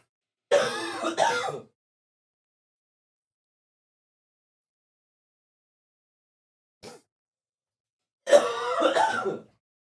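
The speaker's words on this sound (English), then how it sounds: "there's still going to be sniffs and coughs in it" Throat clearing and coughing from people in a podcast recording, two close bursts separated by silence with a faint short sniff in between, no talking.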